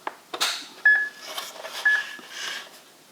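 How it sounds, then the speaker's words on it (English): Speed by Design digital dash plugged into the OBD port of a Nissan GT-R (MY17+, right-hand drive) emits two short, clear electronic beeps about a second apart, amid light rustling and handling noise. "Did you hear it beep?"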